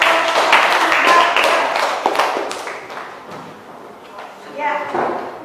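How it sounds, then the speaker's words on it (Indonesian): Students in a classroom clap for a project group, a brief round of scattered hand claps that is loudest at the start and thins out, with a teacher talking alongside. "Berikan tepuk tangan sekali lagi kepada kelompok"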